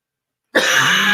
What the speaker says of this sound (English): If you weren't coughing